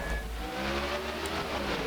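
Race car engine in NASCAR '14 at Dover, the car carrying engine damage after hitting the outside wall, drones loudly and steadily throughout, with low rumble and rising whine, no talk.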